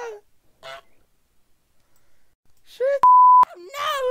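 Desktop Goose cartoon goose honks in short nasal bursts, a couple early then a cluster near the end, interrupted by a loud electronic beep in between.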